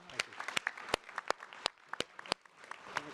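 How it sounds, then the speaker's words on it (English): A small audience claps in a sparse, uneven patter of distinct hand claps for panelists at a frontier markets finance forum, fairly quiet and close, with no voices over it. "A round of applause for our panelists."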